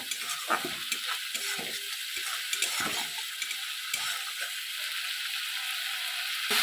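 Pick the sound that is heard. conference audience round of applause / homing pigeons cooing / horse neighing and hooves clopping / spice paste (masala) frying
spice paste (masala) frying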